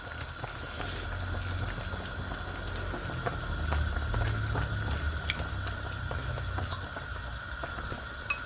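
Beef shank bulalo broth simmering in a pot, a steady low bubbling with scattered soft pops and clicks, continuous and fairly quiet throughout with no talking.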